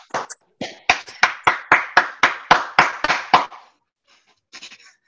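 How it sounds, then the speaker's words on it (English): Light, polite golf-style clapping, about a dozen evenly spaced, fairly close hand claps that stop abruptly, followed by a few faint scattered taps. "Why all you motherfuckers golf clapping?"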